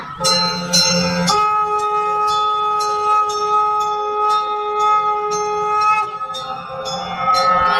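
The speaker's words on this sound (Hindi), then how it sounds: "ये सारी घंटियां बजने लगेगी" Small bells ring continuously during a Krishna Janmashtami celebration, bright repeated metallic strikes with sustained ringing tones layered over each other, close and loud throughout, with no talking.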